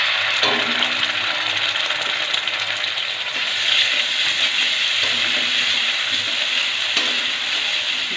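Green chilies and ground poppy seed paste sizzle in a hot pan, a loud, steady, close frying hiss with a few stirring clatters and no voices.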